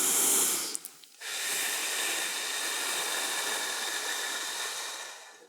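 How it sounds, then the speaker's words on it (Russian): Deep breath drawn during a breathing exercise for facial lymphatic drainage massage, a long airy hiss that breaks off briefly and then resumes as a steady, close, sustained inhale with no talking. "Это глубокий вдох."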